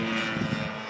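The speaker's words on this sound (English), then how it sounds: "Man, that thing's motoring." A 103-inch 3DHS 330SC RC airplane powered by a ZDZ112 gas engine roars past close by, a loud, steady buzzing drone with a slight swell in the middle.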